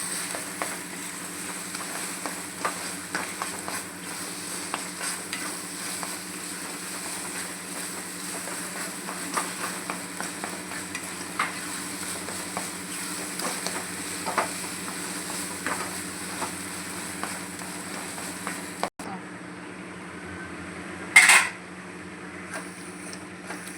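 Eggplant bharta, Maharashtrian style, is stirred and mashed in a pan, giving soft repeated scrapes and clicks over a steady frying sizzle, then a brief pause and one louder clatter near the end.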